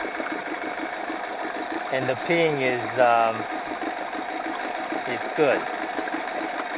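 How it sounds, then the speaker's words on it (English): A Honda 8 hp four-stroke outboard motor, just had its carburetor cleaned, idles at a raised speed with a steady, rapid mechanical chatter running underneath someone talking nearby. "So I turn the screw clockwise so that this motor is now idling faster."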